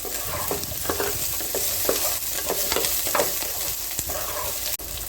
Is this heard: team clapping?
no